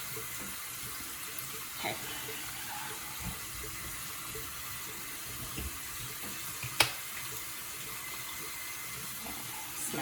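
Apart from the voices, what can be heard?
water running from a tap while dampening face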